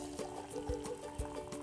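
Hot water poured from a kettle onto buckwheat seeds, giving a soft, steady trickling pour at moderate distance with a couple of small splashy thumps.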